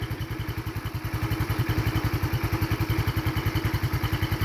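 A Yamaha Mio scooter engine runs steadily after starting, a close, loud, even putter with a rapid regular pulse and a light clatter throughout, no voices.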